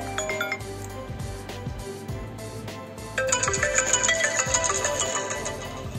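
An iPhone 12 Pro Max plays its ringtone, a bright chiming melody of bell-like tones that grows fuller and louder partway through, heard clearly with no talking.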